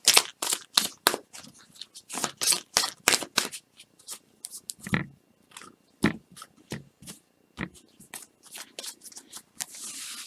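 Oracle cards being shuffled by hand in a crystal oracle reading, with close, crisp riffling bursts repeated in a quick irregular rhythm, separated by short pauses.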